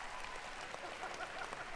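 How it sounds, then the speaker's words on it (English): Sparse, half-hearted pity applause from the audience at the Bethesda E3 2019 press conference: a thin, steady patter of scattered claps, faint and distant, with no voices over it. "Pity claps."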